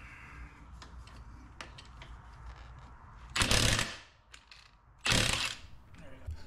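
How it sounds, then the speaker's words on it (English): Ratchet wrench with a 27 mm socket working a motorcycle clutch nut to reach the slipper clutch; faint clicking early on, then two loud, dense bursts of ratcheting around the middle and end. "the 27 millimeter, that's what you're gonna need to take that nut off"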